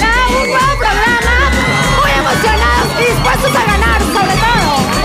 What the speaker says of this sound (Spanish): ¡Qué buenos gritos!